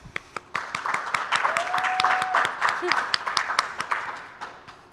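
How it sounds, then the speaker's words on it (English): Scattered applause at an awards celebration honoring a planning committee, individual claps spaced out and distinct rather than a full ovation, with voices murmuring and talking underneath throughout. "Everyone, please join me in a round of applause as we thank our planning committee for their untiring support and dedication to HATS"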